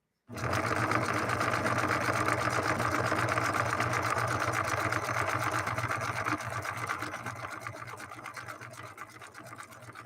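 A Singer 9410 sewing machine sews a straight stretch stitch, running loud and close in a steady, fast mechanical chatter that starts abruptly and keeps going without a break, easing only slightly toward the end.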